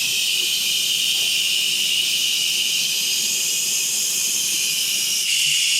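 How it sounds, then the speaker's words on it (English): Steam hisses steadily and loudly from the opened release valve of a pressure cooker inside a vintage Avion travel trailer, a continuous bright rush that holds for several seconds and shifts slightly near the end. "we open the steam valve"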